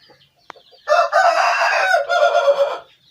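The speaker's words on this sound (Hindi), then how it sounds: "दूसरा मेरा चैंपियन मुर्गा लसानी पट्ठा।" A champion rooster crows once loudly and close, a long strained call lasting about two seconds after a brief click, with nothing else heard.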